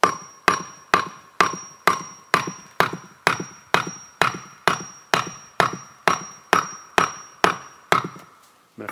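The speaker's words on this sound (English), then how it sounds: "I'm hitting with the tip of the hammer, not the flat part of the hammer, so the tip of it is hitting." Steady, evenly spaced sharp strikes of a hammer's pointed tip against a cinder block, about eighteen loud metallic-masonry blows with short ringing decay, close up and alone, while the block is being split from double to single channel.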